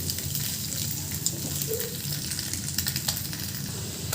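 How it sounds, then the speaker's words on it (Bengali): Steady, fine sizzling of an egg frying in a hot pan, with occasional soft crackles and a light scrape partway through. "ডিমটা সুন্দর করে ভেজে নেবেন।"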